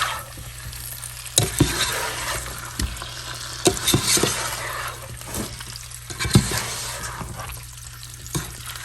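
A spoon stirs korma in a pan, scraping and clinking in irregular strokes over a soft continuous sizzle, close and moderately loud, with no talking.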